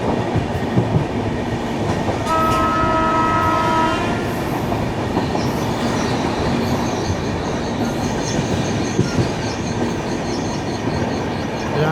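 The Narsapur–Guntur passenger train rushes past a moving Kerala Express, loud and close, with steady rumbling wheels and clattering carriages, a long horn blast sounding partway through and a faint squeal from the wheels.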